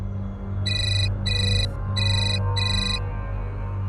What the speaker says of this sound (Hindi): क्लाइंट का फ़ोन है, मैं बाद में मिलता हूँ।